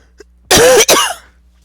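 One person coughs twice in quick succession, loud and close, with nothing else audible around it.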